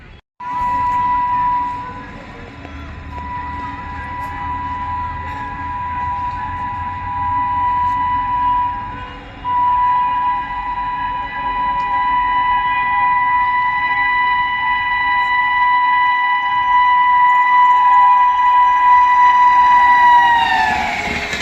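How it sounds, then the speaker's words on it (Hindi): Mahabodhi Express horn sounding long and steady as the train overtakes at Barwan Junction, a loud sustained multi-tone blast lasting nearly the whole stretch over rumbling rail noise, briefly breaking then resuming before cutting off at the end. "एक और ओवरटेक महाबोधि एक्सप्रेस द्वारा, जो यहीं ओवरटेक करेगी बरैन जंक्शन पे ही।"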